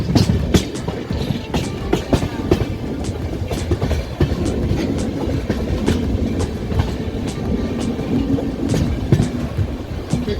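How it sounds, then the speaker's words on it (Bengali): Rhythmic clickety-clack of the Padatik Express passenger train heard from onboard at night, steady and loud, with repeated wheel-on-rail-joint clicks over a constant low rumble as the train approaches Kishanganj station. "বন্ধুরা আমাদের ট্রেনটি অ্যাপ্রোচ করছে এখন কিষানগঞ্জ স্টেশন"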